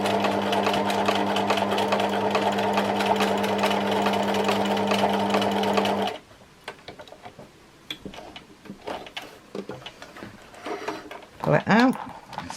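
A sewing machine doing free motion embroidery on a memorial quilt runs steadily and loudly for about six seconds, then stops. Quieter handling noises and brief movement follow.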